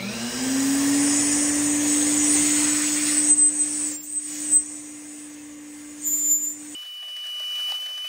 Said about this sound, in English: I've got it attached to my shop vac.